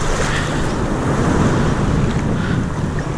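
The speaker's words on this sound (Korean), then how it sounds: "와, 파도 엄청나요." Large ocean surf off Jeju Island, with heavy waves breaking in a continuous loud roar mixed with strong wind buffeting the microphone.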